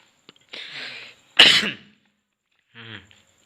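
Three separate coughs, the middle one loudest and harshest, with short silent gaps between them; no talking.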